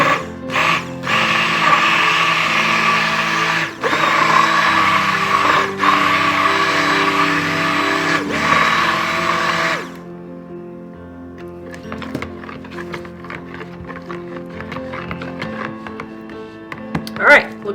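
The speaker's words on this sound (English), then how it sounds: "I'm just using my stick blender to move the process along quicker." A stick blender whirring in melting coconut oil and shea butter for soap, a loud steady motor buzz for about ten seconds with brief stops, then quieter clinks and taps.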